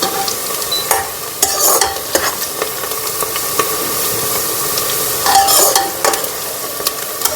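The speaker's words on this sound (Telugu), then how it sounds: "గోంగూర మటన్లోకి జస్ట్ ట్రాన్స్పరెంట్ అయ్యేంత వరకు వేయించుకుంటే సరిపోతుంది." Sliced onions frying in oil in a pan for Rayalaseema gongura mutton, a steady close sizzle broken by louder scraping stirs around the second and fifth seconds, with no voices.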